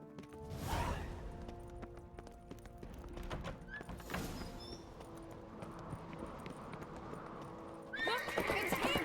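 A horse whinnies loudly near the start in The Witcher 3, then hooves clip-clop at a steady gallop amid game sound effects and a faint second neigh.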